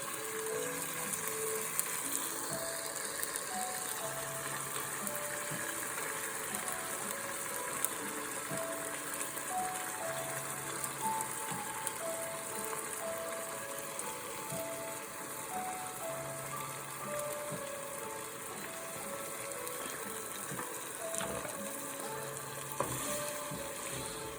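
Mushrooms and garlic sizzle softly in a pan while rich cream is poured in, a quiet steady frying hiss with light stirring scrapes and faint tonal beeps in the background.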